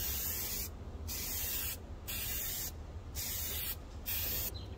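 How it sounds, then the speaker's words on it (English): Spray gun bursts as car dip coating is applied to a 1997 Toyota RAV4: four steady hissing passes separated by short pauses, close and even. "we're gonna go ahead and set up our painting booth, and we're gonna start painting"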